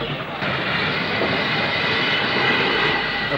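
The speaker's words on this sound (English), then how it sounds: "A Prairie Haul train from Exeter is passed at Cristow." A steady, loud rumbling roar of a passing Prairie tank steam locomotive hauling a train at Christow on a rural branch line, broad and continuous throughout with no pauses.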